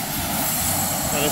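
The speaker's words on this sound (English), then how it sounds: "Look at that one, buddy. Big jet." Steady broadband roar of a large jet aircraft, loud and close, with a faint voice mixed in under the engine noise.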